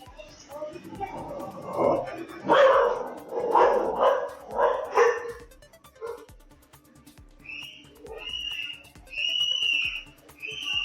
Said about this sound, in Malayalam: തെരുവ് നായകൾ പാഞ്ഞെടുക്കുന്ന CCTV ദൃശ്യം പുറത്തു വന്നിട്ടുണ്ട്